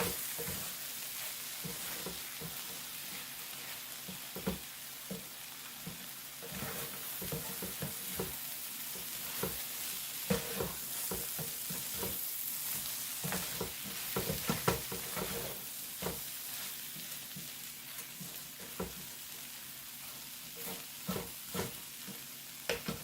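Sweet potato taco filling cooking in a pot, stirred steadily, giving a soft bubbling sizzle with repeated spoon scrapes and clicks throughout, close and alone.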